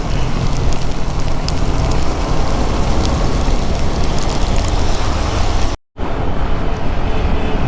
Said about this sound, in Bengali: আমরা বৃষ্টিতে আটকে গেছি, ঘুরি ঘুরি বৃষ্টি হইতেছে